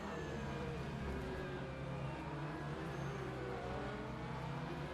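Prototype and GT race cars at Spa in a racing video game, a steady close engine drone with faint pitch shifts as cars run nearby, no talk over it.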